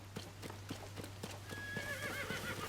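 Horse ridden in Zelda: Tears of the Kingdom, steady clip-clopping hooves at a quick pace with a high whinny rising over them in the last second, close and moderately loud.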